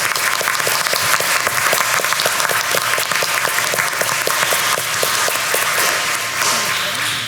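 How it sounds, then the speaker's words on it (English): Loud, sustained applause from a board meeting audience honouring students and parents, dense steady clapping filling the room throughout. "A big round of applause for all the students and all the parents."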